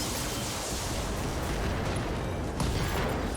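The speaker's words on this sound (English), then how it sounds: "I think there was an ammo explosion that caused the CT to go" Mech ammunition explosion in the BattleTech video game: a dense, continuous rumbling roar of blast noise filling the whole stretch, loud and steady, with a sharper burst near the end.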